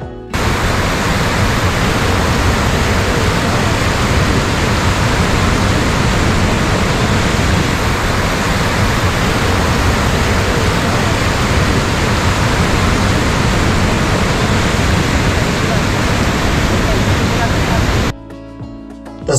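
The Hiranyakeshi river gushes over rocks in front of a temple, giving a loud, steady, broadband rush of churning water that carries on without a break before cutting off near the end.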